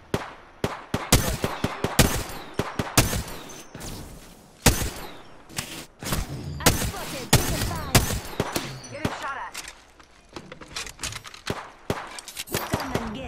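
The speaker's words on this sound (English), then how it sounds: "I am taking fire, friends." Rapid bursts of gunfire in the battle royale game Apex Legends, sharp cracks firing in quick irregular volleys, loud and close, with brief pauses between strings of shots.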